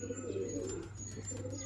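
Pigeons from a prized pair coo steadily in low, throaty calls with faint chirps above, over a constant background hum.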